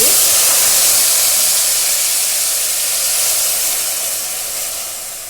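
A loud, bright sizzling hiss erupts as jaggery water is poured into hot ghee, then gradually softens and fades over several seconds.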